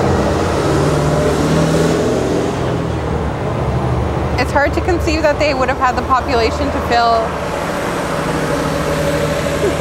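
Loud street traffic in Rome, a continuous low roar of cars, buses and engines close by, with people talking over it in the middle.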